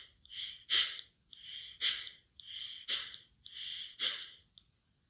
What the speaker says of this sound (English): inhale and exhale quickly through your nose. Do quick but strong exhalations.